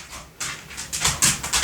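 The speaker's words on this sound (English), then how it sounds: "His nails on the floor always click." A dog's nails click on a hard indoor floor in a quick run of close, irregular taps as it walks, with no voices.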